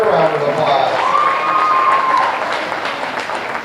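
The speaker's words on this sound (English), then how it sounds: "Let's give her a round of applause." A crowd at a junior swine show applauds a second place winner, with a steady patter of clapping and cheering under a voice and some tonal sounds, gradually easing off.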